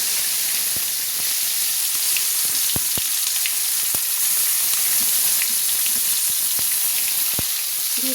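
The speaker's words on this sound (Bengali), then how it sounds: "ভালো করে একটু ভেজে নিচ্ছি" Chopped tomatoes fry in a pan with capsicum nearby, giving a steady close sizzle with scattered sharp crackles and pops throughout.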